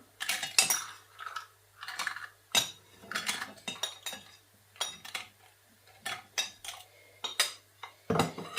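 Rock salt and fried dried red chillies pounded in a mortar for Sri Lankan coconut sambal, a series of sharp, close knocks and clinks coming in irregular bursts with brief pauses between.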